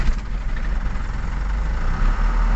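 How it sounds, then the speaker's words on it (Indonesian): A motorcycle engine runs at idle, a steady close low rumble with a continuous throb and no talk, while its dead speedometer indicators and blowing meter fuse are checked. "Kita hidupkan mesinnya coba nih."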